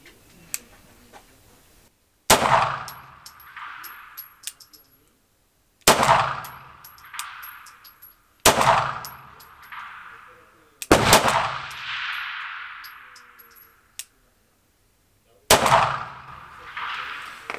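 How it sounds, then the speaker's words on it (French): Pistol shots from a PAMAS G1, the French Army Beretta 92 variant, starting with a double-action first shot: five loud, sharp reports spaced a few seconds apart, each ringing off with a short echo and metallic clink. "On va faire premier tir"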